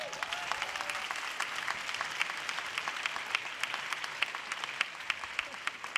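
Audience applause at a talk on degrowth and sufficiency, steady clapping with distinct individual claps standing out, moderately loud throughout.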